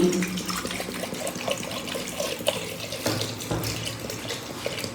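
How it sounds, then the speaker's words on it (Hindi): Water pours steadily into a cooking pot holding three potato pieces, a continuous splashing run from a tap or vessel, close and fairly loud with no talk. "तो अभी इसमें डाल देते हैं जी पानी"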